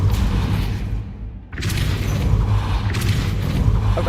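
A Depulso spell cast in the video game Hogwarts Legacy produces a sudden whooshing burst after a brief hush, followed by a rumbling magical rush and a few crackling impacts that carry on to the end.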